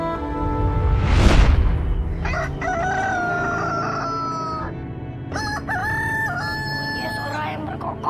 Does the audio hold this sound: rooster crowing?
yes